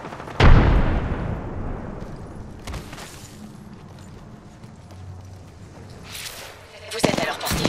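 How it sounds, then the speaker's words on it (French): A frag grenade in Apex Legends detonates with a loud, booming blast near the start, its rumble fading into gameplay ambience, with further sharp impacts at the end. "Grenade frag lancée."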